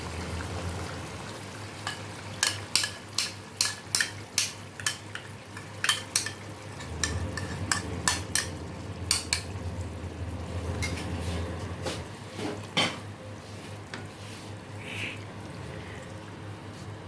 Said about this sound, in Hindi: चूल्हे को स्लो कर लेंगे और इसमें दही शामिल कर देंगे।